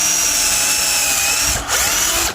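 A power drill bores into wood while building a wild boar pen, giving a loud, close, continuous whine that dips briefly twice as the bit bites.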